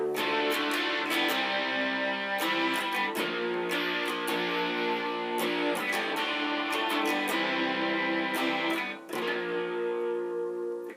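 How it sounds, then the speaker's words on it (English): Heavily distorted electric guitar strumming the chorus chords of a song in a driving rhythm, thick and saturated, playing continuously with no voices. "Rhythm guitar sound like this."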